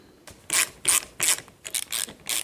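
Small caps are prised off the bolts of a Honda front brake master cylinder with about six short, rasping scrape-and-click bursts in a quick, irregular rhythm, close up and alone.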